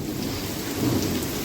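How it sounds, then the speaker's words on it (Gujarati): Heavy monsoon rain pours steadily near a brimming dam while thunder rumbles low and continuous beneath the downpour, with a swell in the rumble partway through. "વીજ ને ગાજ બહુ છે"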